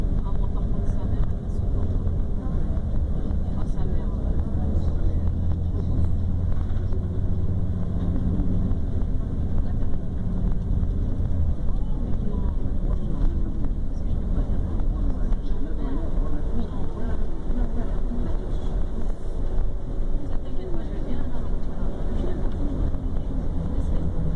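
Iveco Crossway CNG bus accelerating on a motorway, a steady loud low engine drone with rumbling road and wind noise heard from on board, constant throughout with faint voices underneath.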